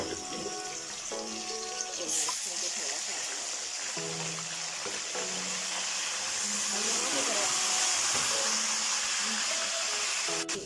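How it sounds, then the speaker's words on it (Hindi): Ginger garlic paste frying with onions in a pot for commercial deghi-style palak gosht, giving a steady, fairly loud hiss and sizzle that runs throughout, with faint clinks and a voice talking underneath. "ये अदरक लहसुन को भी हमने थोड़ा सा पका लिया है, इसे भून लिया।"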